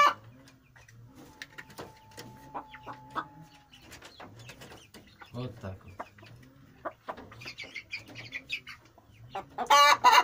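Chickens cluck repeatedly at close range as they feed from a perch, with a few sharper calls and a burst of bright chatter near the end, while a person talks quietly in between.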